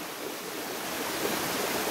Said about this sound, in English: But this looks like another nice waterfall.